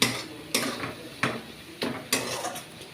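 A spoon scrapes and clanks against a pan as onions, dried chilli powder and black pepper powder are fried and stirred, with four or five sharp strokes over a soft sizzle and no speech.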